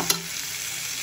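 Potatoes frying in a pan for a palak aloo dish, a brief burst of sizzle at the start settling into a steady, moderate crackling hiss with no talking.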